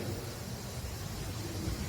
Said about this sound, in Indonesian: Itu hujan.